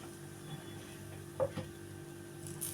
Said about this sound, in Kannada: ಇದಕ್ಕೆ ಇವಾಗ ನಾವು ಒಂದು ಸ್ಪೂನ್ ಎಣ್ಣೆ ಹಾಕಿ ಇನ್ನೊಂದು ಐದು ನಿಮಿಷ ಹುರಿಯೋಣ